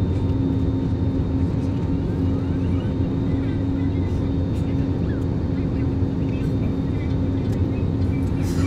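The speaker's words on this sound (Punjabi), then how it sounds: "ਹੁਣ ਲੈਂਡ ਹੋਣ ਲੱਗਾ ਜਹਾਜ਼" Steady loud drone of an airplane cabin as the aircraft descends to land at Delhi airport, a continuous engine roar with a constant low hum lasting throughout and no clear speech.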